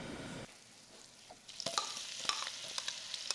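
Butter, three tablespoons, melting in a frying pan, giving a soft steady sizzle with faint crackles and small stirring clinks that pick up after a quiet start.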